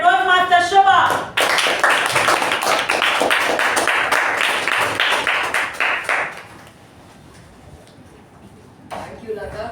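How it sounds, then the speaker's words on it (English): An audience at a Toastmasters club meeting breaks into a round of applause, dense clapping that fades out after several seconds, followed by quiet. "Let us give us a huge round of applause for general evaluator Toastmaster Shuba."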